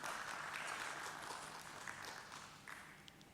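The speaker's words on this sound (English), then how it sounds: "A round of applause, ladies and gentlemen" Audience applause at a stock exchange IPO listing ceremony, a steady wash of many hands clapping that holds for several seconds and gradually thins toward the end, with no voices over it.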